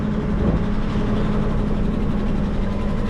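A 2008 Ford F350 dump truck's diesel engine runs steadily close by, a loud, even low rumble with a constant drone and no variation across the short stretch.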